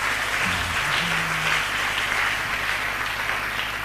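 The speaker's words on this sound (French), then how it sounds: "Acclamons-le très fort." A church congregation applauds steadily and loudly through the whole stretch, a dense, even wash of clapping with faint low tones beneath.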